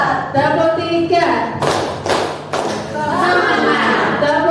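Several quick, sharp group claps sound in a patterned burst as a classroom practises a set clap routine, with an adult voice talking around the claps.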